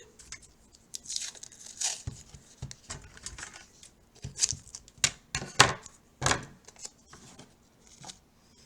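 Adhesive tape crackling and ripping in short bursts, with crinkly handling sounds as it is pulled and folded in half, close and fairly quiet.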